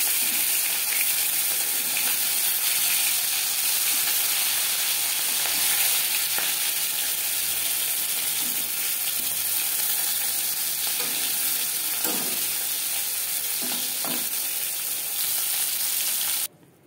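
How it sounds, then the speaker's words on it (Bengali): Pieces of katla fish sizzle in hot oil in a pan while being cooked for a homestyle Bengali doi katla. The hiss is loud, steady and continuous, with a few brief spatters and stirring sounds, then it cuts off at the end. "মাছ ভাজা হয়ে গেছে,"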